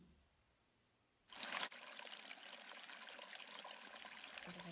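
Steady water trickling and pouring begins abruptly after a quiet start, with a brief louder gush at the onset, then a continuous even flow close by, no voices.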